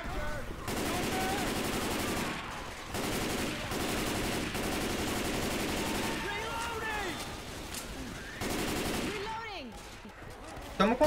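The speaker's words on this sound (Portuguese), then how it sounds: "É melhor ficar atirando nos zumbis que estão chegando." Sustained bursts of automatic gunfire mow down zombies in Left 4 Dead 2 inside a shopping mall, several long rattling volleys separated by short pauses, with shouts and game noise between bursts.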